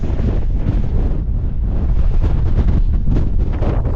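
Strong wind roars across a snowy winter mountain summit at Cul Mor in Scotland, a loud continuous buffeting rush that pounds the microphone with no voices heard.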